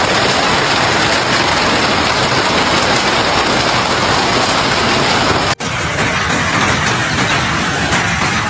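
A dense, loud, unbroken roar of falling ice pounds surfaces during an Alberta hailstorm with baseball-sized hailstones, continuing after a brief cut partway through, with no voices.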